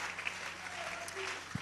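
Church audience applauding for a pastor's sermon: a steady patter of many hands clapping at moderate distance, continuous through the short stretch, with a brief voice or shout mixed in.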